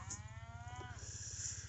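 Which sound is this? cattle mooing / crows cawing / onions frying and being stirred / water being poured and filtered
cattle mooing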